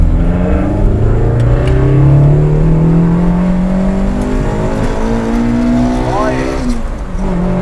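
Fully worked Toyota AE86 with a 4AGE/7AGE engine pulling on a dyno, revs climbing steadily through the gears with a strong rising drone that stays loud throughout, while someone talks over it.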